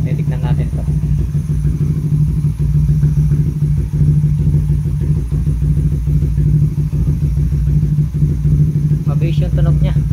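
A Raider 150 FI motorcycle fitted with a Red Leo power pipe exhaust runs at a steady, close idle with a low throbbing hum and light mechanical clatter, and people talk over it.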